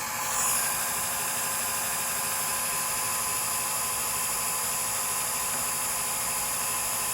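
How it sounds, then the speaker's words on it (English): A pump runs continuously in a double salt micro filter setup, giving a steady, loud whining hum with a faint hiss that stays even throughout. "Listen to the sound of the pump."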